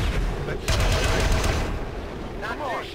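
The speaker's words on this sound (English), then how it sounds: "First shot always misses" Gunfire in a tactical strategy video game during a VIP assassination mission, a few sharp shots sounding over steady game noise and background talk.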